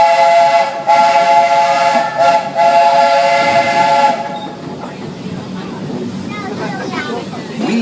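The Walt Disney World Railroad train rumbles along the rails with a sustained steam whistle at first, then the clatter of the cars continues alone, loud and close.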